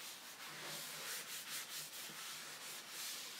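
Yorkshire grit is rubbed by hand into a turned 12-inch wooden fruit bowl, giving a soft, continuous gritty scrubbing with gentle back-and-forth swells, close and fairly quiet.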